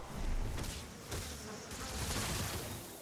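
Bees swarming in the Fortnite Save the World storm shield defense game make a dense, wavering buzz, loud at first, then a little quieter, with game noise mixed underneath throughout.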